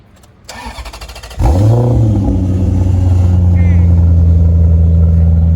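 A salvage-auction Ferrari-powered car engine cranks with a rapid ticking starter, catches, then settles into a loud, steady idle close by.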